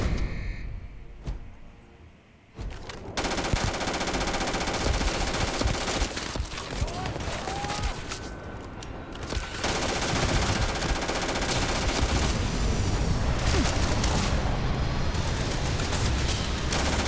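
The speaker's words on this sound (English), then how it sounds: "Well, no wonder it had so many bullets. We fire so many at a time." An automatic weapon in the video game Starfield fires long, dense, loud bursts of rapid gunfire that fill nearly the whole stretch, with a short pause near the start.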